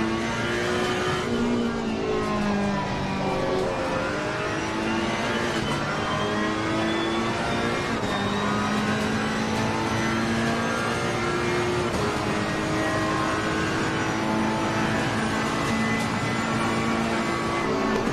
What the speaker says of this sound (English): So coming up to this hairpin again, hardly any brake. It's all engine brake.